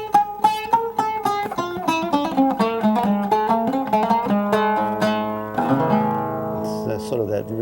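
An oud plays a melodic run in the Chatraban mode, plucked notes ringing in quick succession, close and clear, ending on sustained tones that fade.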